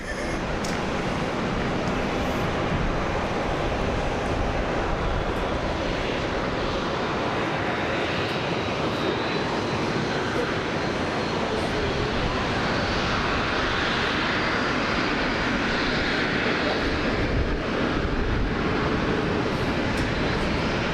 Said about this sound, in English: Gonna have the Max 8 heading out shortly to Queenstown, New Zealand.